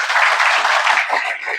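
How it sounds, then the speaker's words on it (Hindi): An audience at a Brahma Kumaris yoga gathering claps together in one dense, loud burst of applause lasting over a second before fading slightly. "बजाओ ताली एक बार"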